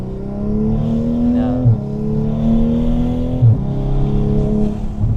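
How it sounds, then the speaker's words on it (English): A Toyota Supra GR MkV A90 engine revving lightly in a downtown LA parking structure, two short throttle blips rising and falling over a steady running note, close and moderately loud. "I just barely gave it any gas"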